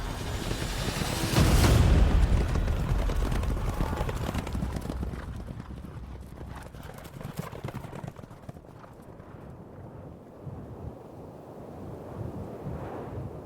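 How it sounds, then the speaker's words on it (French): Horses gallop in a loud, close clatter of hooves as a fleeing army scatters, the rumble peaking early and then thinning into a fainter, sustained drumming with wind-like noise. "Darius fouette ses chevaux et prend la fuite"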